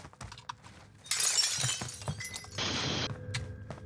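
Glass shatters in Call of Duty Warzone, a sharp crash followed by a second bright burst of breaking shards, set against quieter game ambience and distant clicks.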